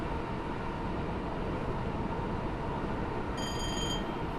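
In Train Sim World 5, a train runs between Glasgow Queen Street and Edinburgh, heard from an external camera. A constant, even rumble of wheels and engine fills the whole stretch, and a faint tonal whine rises near the end.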